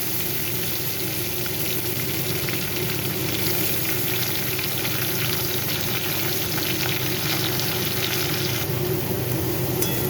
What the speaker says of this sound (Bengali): এরপর আমি কড়াইতে পেঁয়াজ বাটাটা দিয়ে দিলাম।